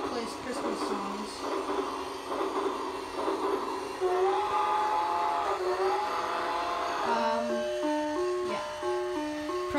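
A toy train rolls along while its built-in speaker plays a tinny electronic Christmas melody, the stepped notes clear above a steady mechanical whir, with a person talking over it.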